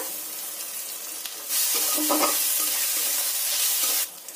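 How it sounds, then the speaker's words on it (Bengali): Onion, ginger and garlic paste with tomato sizzling in a pan for a homemade biryani masala, with stirring scrapes and a louder burst of frying in the middle before it settles back to a steady sizzle. "আমার পেঁয়াজ আদা রসুন খুব ভালো করে কষানো হয়ে গেছে"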